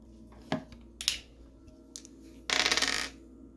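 Dice clatter onto a hard surface during a tabletop game session, with a few sharp scattered clicks followed by a louder rattling roll lasting about half a second, close and without talk.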